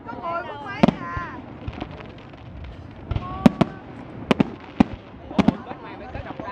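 Fireworks display at the 2015 Dalat flower festival in Vietnam, with sharp bangs and crackles bursting at irregular intervals, some whistling, heard from a distance under ongoing conversation among onlookers.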